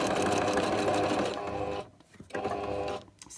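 Sewing machine running continuously while stitching a homemade cloth sanitary pad with double and zigzag stitches, a steady close whirring that pauses briefly twice near the end.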